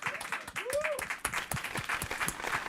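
A small group applauds a producer in a podcast studio, scattered claps running under ongoing talk and laughter for a few seconds.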